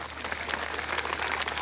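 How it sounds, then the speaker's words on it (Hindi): Crowd applause welcoming people at a political rally in India: a brief burst of many hands clapping together, steady and fairly loud, with no talk over it. "ये हमारे साथियों के नाम पे जोरदार ताली बजा करके आप स्वागत करिए"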